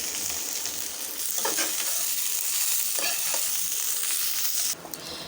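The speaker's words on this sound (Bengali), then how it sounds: "এখন এটাকে ভালো করে ভেজে নেব।" Boiled drumstick leaves fry in a pan with a dense, continuous sizzle and crackle, stirred now and then, close and steady with no talking.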